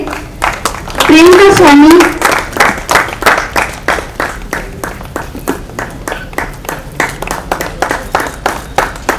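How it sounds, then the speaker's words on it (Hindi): An audience claps for artists at a desert painters' camp, a strong, regular rhythmic clapping that continues steadily throughout, after a voice calls out briefly at the start. "तालियों का सिलसिला चलता रहे।"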